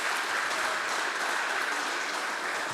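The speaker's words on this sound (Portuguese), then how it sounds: "Uma salva de palmas ao Senhor Jesus." A church congregation claps together in steady, dense applause that holds evenly throughout, loud and close, with no voices over it.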